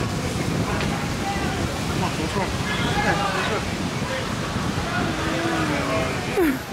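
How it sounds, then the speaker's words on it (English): Strong wind at Pompano Beach, Florida buffets the microphone in a constant loud roar, with surf noise mixed in and faint voices barely audible underneath. "You probably can't hear me because it's really windy."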